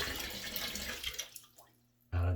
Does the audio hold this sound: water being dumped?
yes